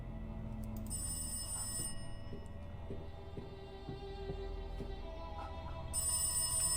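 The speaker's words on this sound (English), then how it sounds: "Oh, there's a phone." A telephone rings repeatedly in the horror video game Rise of Insanity, a steady electronic bell pattern sounding at moderate distance over a low, droning ambient backdrop with no talking.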